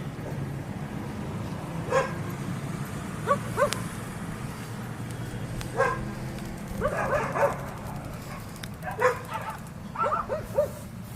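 Several dogs bark from a distance in short bursts and yips, some whimpering, over a low steady background hum.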